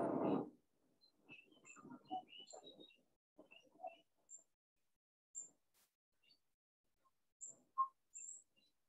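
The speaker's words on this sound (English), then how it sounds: "that tiny sound, that's the call of the red-browed finch." Red-browed finches calling in a garden at the Randwick Environment Park: thin, very short high-pitched zips scattered one by one, faint and far-off in a quiet setting, after a brief low rumble at the start.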